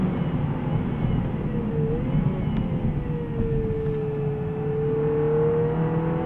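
A 2017 MINI Clubman JCW engine revving on a race track, a steady in-car drone whose pitch rises, dips, then climbs smoothly again as the car accelerates through the gears.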